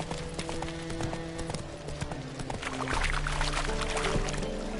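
Roach, Geralt's horse in The Witcher 3: Wild Hunt, trots with steady, loud hoofbeats. Game music and ambience play beneath, and there is no speech.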